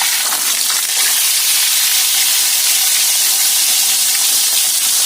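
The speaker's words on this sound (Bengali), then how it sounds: "এবার আমদি মাছগুলো ভাজছি" Freshwater fish frying in mustard oil, a loud, steady hiss and sizzle that fills the whole stretch with no talk over it.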